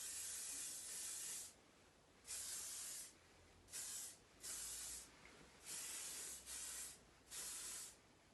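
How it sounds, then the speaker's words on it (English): Sam McKnight hairspray sprayed during hair styling gives about seven short, close hissing bursts, separated by brief pauses, with no talking. "And then I'm going to finish off with a tiny bit of SamMcknight Morden hairspray."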